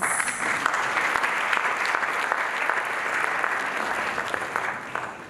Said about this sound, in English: we need our applause for us.